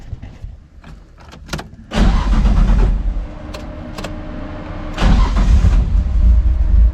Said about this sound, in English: Always second try with this car.